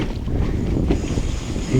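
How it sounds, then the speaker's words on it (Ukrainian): Gusting wind blowing over open water with waves while fishing from a boat for zander, a rough buffeting rush alone for under two seconds. "піднявся вітер"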